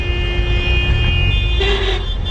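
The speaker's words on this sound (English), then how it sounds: "the honking is real, honey." Car horns toot in busy Delhi street traffic over a constant low rumble of engines, with one longer, higher honk standing out near the end and no talking.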